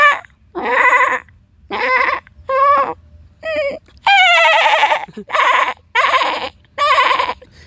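A man imitates a goat's bleating, giving a series of about eight loud, quavering bleats in short bursts separated by brief pauses.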